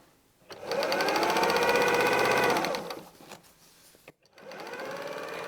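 A sewing machine stitches patchwork blocks in quick mechanical bursts, a buzzing rattle that runs for about two seconds, stops, then resumes after a short pause, close and clear with no talking.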